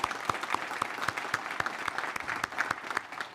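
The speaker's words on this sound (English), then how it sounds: "Let's give him a round of applause." An audience applauds at a community announcement event, steady clapping with sharp individual claps standing out, moderately distant and without speech.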